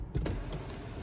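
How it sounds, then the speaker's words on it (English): Electric sunroof of a BMW 530e plug-in hybrid 5 Series sliding open: a brief, steady motor whir with a faint high whine inside the cabin, starting with a soft click. "One hard press towards the rear of the car will open it up for you."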